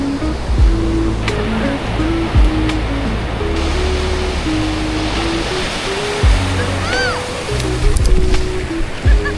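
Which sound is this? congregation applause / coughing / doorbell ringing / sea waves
sea waves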